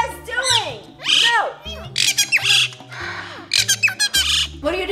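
Hyacinth macaws squawking loudly and repeatedly, harsh screeching calls in quick bursts close by, with a person talking among them.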